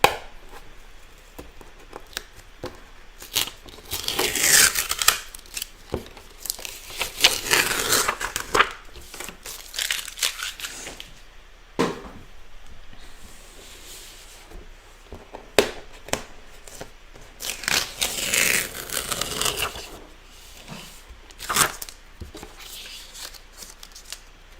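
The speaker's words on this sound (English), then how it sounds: "I'm gonna unwrap this one." Packaging being unwrapped during a live watercolor flower painting session, a long run of crinkling, tearing and rustling handling noises in uneven bursts, fairly close and moderately loud, with no speech over it.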